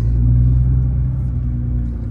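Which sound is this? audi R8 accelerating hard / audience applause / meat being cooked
audi R8 accelerating hard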